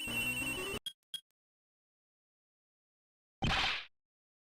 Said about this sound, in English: That's her phone. Cell phone. Mine is also ringing.